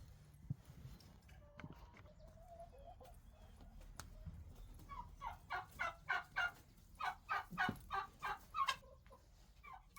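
Meat chickens call and cluck nearby, a rising run of rhythmic, squawking bursts over a low rumbling background, with no talking.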